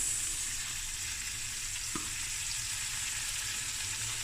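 Peppers frying lightly in a pan for a seafood dish, a steady close hiss of sizzling oil throughout with one brief soft tap from a utensil, no talking.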